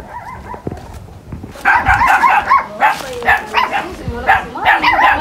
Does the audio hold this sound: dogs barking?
yes